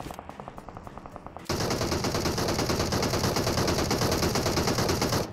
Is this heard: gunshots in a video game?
yes